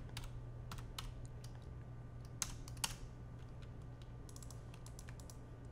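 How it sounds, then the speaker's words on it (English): Typing on a computer keyboard while working in the Far Cry 5 map editor, with irregular bursts of sharp close key clicks over a low steady hum, no talking. "Let's type in sprinkler."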